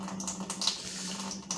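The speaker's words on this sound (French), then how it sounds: "j'apporte au robinet, au lavabo, je fais couler l'eau" Water running gently from a sink tap into a beaker during a sedimentation test for parasite eggs, a steady close trickle and splash with a low background hum, no speech.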